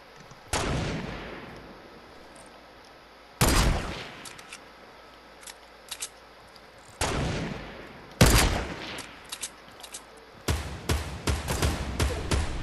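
Heavy shots ring out in PUBG, a few single loud cracks spaced seconds apart, then a faster burst of repeated shots near the end, with no talking.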